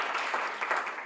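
Audience applause in an auditorium as people gather back in person, a dense, steady wash of many hands clapping at moderate volume for about a second, with no voices over it.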